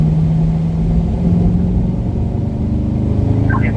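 A Chevrolet Corvette C8 accelerates out of a turn on a racetrack at a performance driving school, its engine a loud, steady, close droning roar held throughout.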